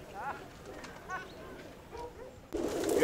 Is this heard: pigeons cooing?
yes